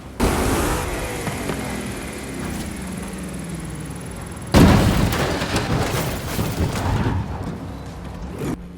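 A car engine roars steadily while racing on asphalt in Forza Horizon 5, then a sharp loud burst hits midway and the engine keeps revving strongly. No voices are heard.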